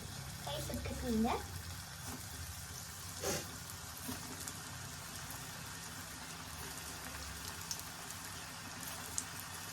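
Paneer popcorn pieces deep-frying in hot oil give a steady, moderate sizzle and bubble that runs throughout, with a brief louder stir or splash near the start. No one speaks.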